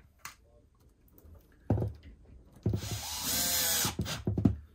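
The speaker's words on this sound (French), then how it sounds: "Tu vas prendre des vis, tu vérifies que la longueur ne dépasse pas et tu vas les visser." A cordless screwdriver drives screws to fix a Milwaukee Packout mount, whirring in several short bursts with one longer run, with light handling clatter in between.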